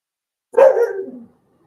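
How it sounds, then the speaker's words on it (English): A dog gives a single close, loud bark that trails into a short whining tail, with silence on either side. "Y'all hear that dog? I'm about to go see what that dog's barking at."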